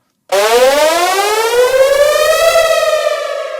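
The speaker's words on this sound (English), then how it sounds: "you can hear the effect is running through the filter." Synth riser transition effect run through a filter, with the noise and chord oscillators switched off: a bright harmonic tone sweeping steadily upward, starting abruptly and swelling loud and alone for a few seconds.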